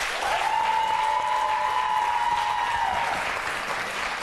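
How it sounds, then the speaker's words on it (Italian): Studio audience at an Italian football TV show breaks into steady applause, a dense wash of clapping lasting a few seconds before tapering off, with a faint sustained tone running underneath. "intanto applauso."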